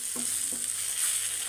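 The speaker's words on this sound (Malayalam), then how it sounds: "എല്ലാം കൂടെ ഒന്ന് മിക്സാക്കാം." Okra curry masala sizzles steadily as it is stirred and fried in a pan, with two quick spoon scrapes near the start over a continuous close frying hiss.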